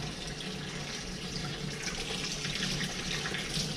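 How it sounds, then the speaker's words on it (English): Water running steadily from a tap or hose as a mixing paddle is wetted before stirring drywall mud, a close, continuous splashing rush with no voices. "I always wet my paddle before I use it"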